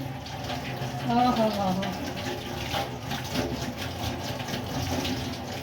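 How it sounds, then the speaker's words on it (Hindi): Water runs from a kitchen tap in a steady, moderate hiss while a voice speaks briefly over it. "पानी खोलें"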